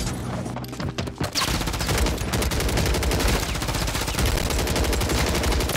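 Rapid, continuous WSP-9 submachine gun fire in Warzone 3 rattles loud and close in long sustained bursts after a brief opening shot or two, with no voices.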